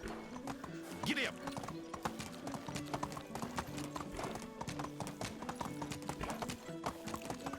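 Galloping horse hooves in the medieval survival game Medieval Dynasty, a steady rapid clip-clop running throughout with a brief whinny, under background game ambience and some talk.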